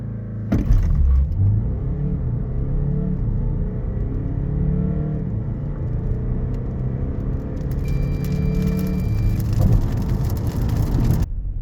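An Audi Q5 with a 204 hp diesel engine accelerates hard from a standstill, its engine note rising in pitch through the gears as a loud, steady roar with a brief shift dip, heard alone without talk.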